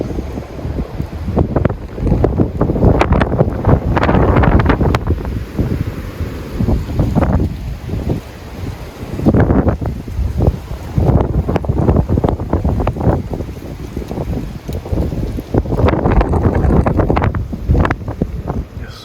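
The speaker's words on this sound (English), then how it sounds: "It's getting windy out there." Strong gusting wind buffets the microphone outdoors in the Maine mountains, loud rumbling surges coming and going in waves with no voices.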